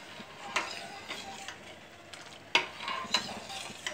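Rice kheer with almond powder being stirred in a silver or steel pan, with a spoon scraping and clinking in irregular strokes over a faint simmer, close by.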